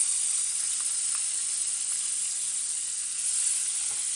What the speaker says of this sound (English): Next, we're going to add a little onions and garlic to this nice little oil here.